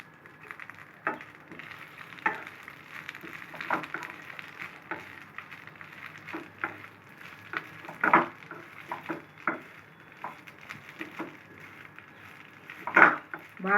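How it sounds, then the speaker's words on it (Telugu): Moringa leaves dry roasting in a pan with a spoonful of oil, giving a soft continuous sizzle broken by irregular scraping and stirring knocks, with a sharper clink near the end. "బాగా డ్రై రోస్ట్ చేసుకోవాలి మునగాకు."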